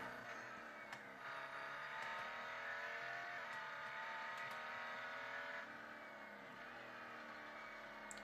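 Koenigsegg One:1 hypercar with a V8 biturbo engine in the racing game Real Racing 3, a steady, fairly quiet engine drone with climbing revs and no talking.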